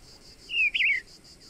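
A single bird gives a short, clear, wavering chirp close by outdoors in Indiana, over a faint pulsing chorus of insects in the background.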